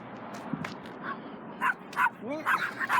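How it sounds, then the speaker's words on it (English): Several dogs yip and bark in short sharp bursts that grow louder and more frequent toward the end, with some whimpering tones and a person's voice mixed in at a quiet outdoor spot. "I'm gonna scare some dogs."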